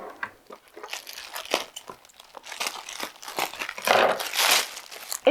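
A delivered package of strawberry supports for a garden is opened, with close, irregular crinkling, tearing and rustling of packaging in short bursts and a louder crumpling flurry near the end.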